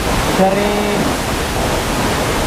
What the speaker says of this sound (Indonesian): Silakan nikmati pemandangan air terjun Purkmusaring